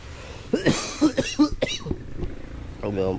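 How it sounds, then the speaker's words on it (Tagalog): A person coughs several times in quick, harsh bursts, close to the microphone, with a short voiced sound near the end. "Ubo pa ng ubo."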